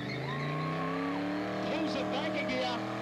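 Valiant car doing a burnout at a 1998 Rebels Car Club burnout event, its engine revving and rising in pitch with tire squeal, while a commentator talks over it on a loudspeaker.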